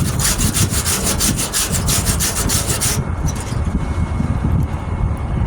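Cleaning up a weld on a 1998 Ford Ranger tailgate during rust repair: loud, close abrasive rasping, with rhythmic back-and-forth strokes at first, then a steady grinding scrape.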